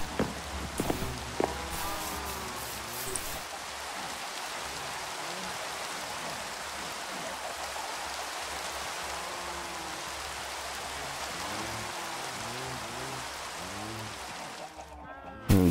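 Steady rain in the video game Minecraft hisses throughout, with someone talking over it for most of the stretch and a sharp click at the end.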